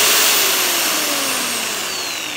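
An electric drill spins a small nail held in its chuck, giving a loud, continuous high-pitched whine that holds steady and slowly drops in pitch as it runs, close up with no talk.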